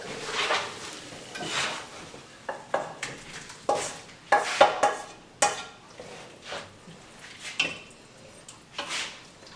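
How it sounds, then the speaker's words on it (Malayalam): Chicken curry meat masala is scraped from a pan into a pressure cooker, with a run of irregular metal spoon scrapes, clanks and knocks against the pots, loud and close, with pauses between strokes. "മസാല കുക്കറിലേക്ക് ഇടാം."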